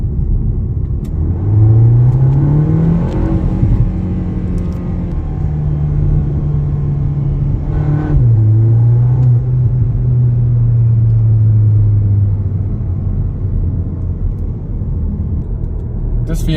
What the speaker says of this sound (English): the power actually pushes this small SUV along pretty well